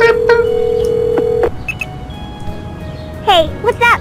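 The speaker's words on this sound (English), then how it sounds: "I punch in Nikki's phone number and wait for her to answer." Tones sound as a phone number is punched into a telephone. A long steady tone is followed by a few short beeps, close and clear, with brief background sounds between.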